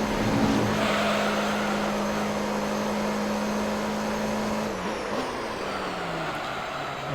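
A race car's engine in Gran Turismo 3 on the final lap of a Professional All Japan GT race at Grand Valley, droning steadily at high revs before the pitch drops and wavers through a hairpin turn.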